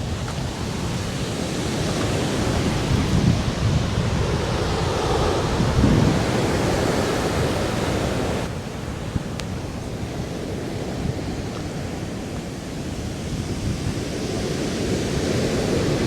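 Rough sea at Red Rocks Reserve in New Zealand, waves crashing and roaring continuously with heavy surf noise and gusts of wind buffeting the microphone throughout.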